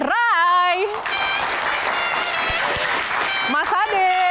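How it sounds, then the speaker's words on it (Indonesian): Studio audience applauding to welcome Ade Rai as guest on a Q&A talk show, a steady broadband wash of clapping under continuous music and a host's voice. "Mas Ade, tepuk tangan sekali lagi."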